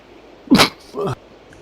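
A single sharp human sneeze bursts out close to the microphone during a 10-ball pool world championship broadcast, followed by a brief softer vocal sound, against a quiet arena background.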